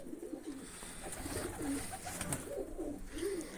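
Several pigeons at feeding time give soft, repeated rolling coos, close by and steady, with a faint background hum and no talking.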